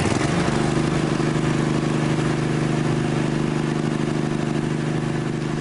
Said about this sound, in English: Mike, it's running too slow. The RPMs are too low.